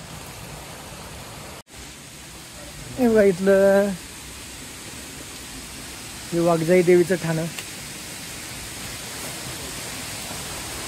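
A waterfall behind the Waghjai Devi temple on a hill-fort trek pours as a steady broadband roar throughout, while someone speaks briefly twice over the rushing water.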